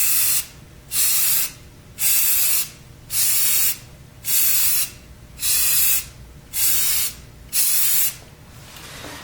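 Spray paint hisses out in eight short, evenly spaced bursts, each about half a second long with brief gaps between, as a light coat is applied to a BlackHawk Serpa holster. The sound is close and steady.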